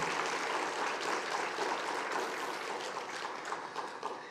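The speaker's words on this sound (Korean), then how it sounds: "우리 수고한 진구 형제와 이연화 전도사님을 위해서 한번 박수 한번 하겠습니다" A church congregation claps for a brother and a woman evangelist during Sunday worship, a steady sustained applause that is moderately quiet and eases slightly toward the end.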